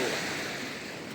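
Steady wash of surf breaking on a shore, broad and continuous, with some wind noise and no talking.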